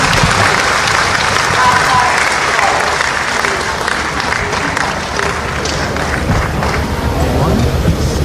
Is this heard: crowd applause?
yes